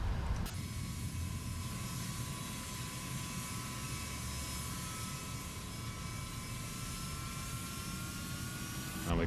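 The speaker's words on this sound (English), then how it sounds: "And we can hear the engine spool up to compensate for that." A jet airliner's engine spools up in the X-Plane 11 flight simulator on approach with flaps and gear down, giving a steady, loud, continuous roar with a sustained whine throughout.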